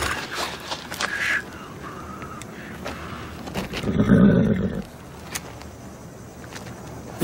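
A wounded horse, shot in a film scene, lets out a single harsh, strained neigh lasting about a second, loud and close against quiet background ambience.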